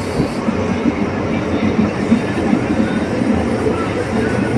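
Passenger train pulling away from Vandra station, a steady close rumble of rolling stock with faint rhythmic wheel clatter throughout, no talking.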